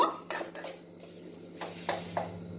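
Metal spoon scraping and clanking against a pan while paneer is stirred for kalakand, a series of close, sharp scrapes and knocks in an uneven rhythm with quiet pauses between.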